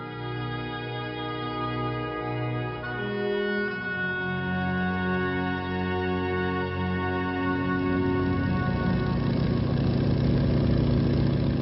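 The Spirit of St. Louis aircraft engine drones steadily in flight, a loud, continuous hum whose layered tones hold for the whole stretch, gradually roughening toward the end.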